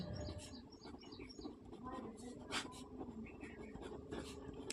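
Pen or chalk writing on a surface during a Class 8 maths lesson on the area of a rhombus, heard as steady scratchy strokes over a busy background with birds chirping and faint room noise.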